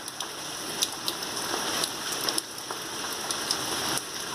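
Steady rain pours down on a surface, with a dense continuous hiss and scattered sharp drip impacts close by, no voices.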